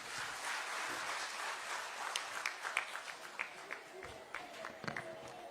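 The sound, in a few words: audience applause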